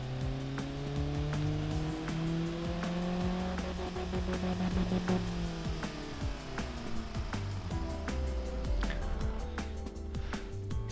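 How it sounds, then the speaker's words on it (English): Engine running continuously on a test stand during a dynamometer run, droning steadily with shifting pitch and a rapid ticking pulse throughout, no talking. "Now let's go on to engine testing."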